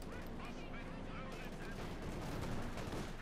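Rapid automatic flak fire from an Ostwind anti-aircraft tank in the video game Company of Heroes 2, a dense, continuous burst of loud cannon shots layered with battle noise.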